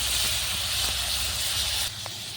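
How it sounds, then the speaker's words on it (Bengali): Spice paste with tomato, chilli, onion and garlic sizzling in hot oil with fenugreek tempering for a Bengali fish curry, giving a steady close frying hiss throughout that softens slightly near the end. "মশলাগুলো দিয়ে নিলাম। একটু ভালো করে ভেজে নেবো যাতে কাঁচা গন্ধটা চলে যায়।"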